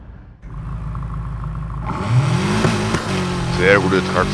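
A 2018 BMW M5, tuned, driving in Need for Speed Heat: a low engine drone swells into a rising rev as the car accelerates, layered with whirring road and game noise.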